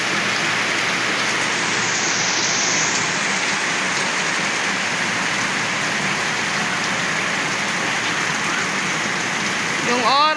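Heavy rain pours steadily onto a surface, a dense, unbroken hiss of close drops with a faint voice briefly near the end.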